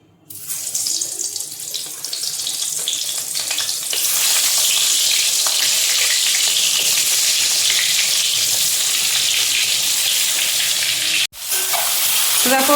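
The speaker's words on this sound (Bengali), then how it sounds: "এখানে ভেন্ডি, আলু, বেগুন একসাথে ভাজা বসিয়ে দিয়েছি" Okra, potato and eggplant fry together in a pan, giving a loud, steady hissing sizzle that builds and then holds, broken by one brief cutoff near the end.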